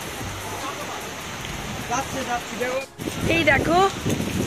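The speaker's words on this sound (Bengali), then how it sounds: "এই দেখো বৃষ্টি নেমে গেছে" Steady rain hisses in the background while a person talks over it, with a brief gap in the noise midway.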